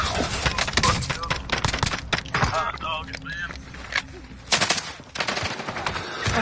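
Rapid automatic gunfire from a video game shooter rattles in loud bursts throughout, mixed with mechanical clatter and brief in-game effects, while a player talks over the action.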